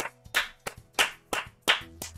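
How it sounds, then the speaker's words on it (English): Sharp, separate hand claps, about seven spaced a fraction of a second apart, close and fairly loud with no talking, during a live game stream of Peggle. "Everybody else clap! Clap for Jeff Keighley."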